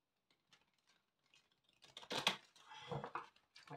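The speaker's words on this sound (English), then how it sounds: "Let's just give these a good shuffle." Tarot cards being shuffled by hand, starting with soft scattered flicks and then building into a denser riffling patter of close, crisp card slaps, with no talking.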